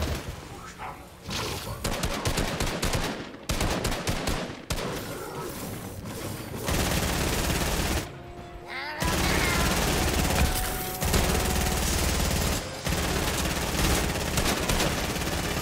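Dense bursts of rapid automatic gunfire from a Fortnite duos match, loud and close, broken by short pauses, with someone talking over it.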